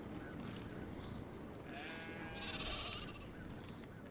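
Sheep bleat softly in the farming sim game Ymir, a couple of faint wavering calls rising over a constant low background hum.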